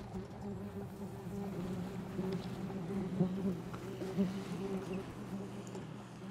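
A dense, steady buzzing of many yellow jacket wasps swarming close by from their nest, a low droning hum with slight swells in loudness throughout.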